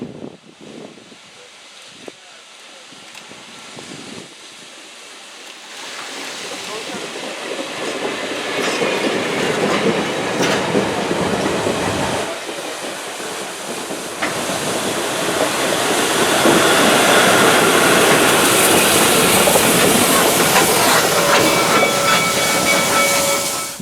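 Reading 2102 steam locomotive hauling a train under the old Pennsylvania Railroad right-of-way near Lowland Road in Hamburg: a steady rumble with hissing steam and clickety-clack wheels that swells louder as it passes, with no talking.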